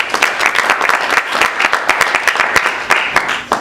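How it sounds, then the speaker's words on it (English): Steady, loud applause from an audience at an employer panel discussion, dense clapping sustained throughout with sharp individual claps standing out. "Can we get a round of applause for Drew?"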